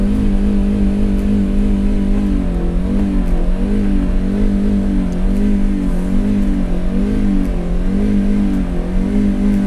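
Ford Mustang V8 engine held at high revs around its 6200 rpm limit, a loud, steady, throbbing roar with slight wavering pulses, sustained and close, with no voices.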